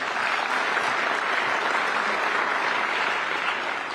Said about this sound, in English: they get a big hand of applause as well.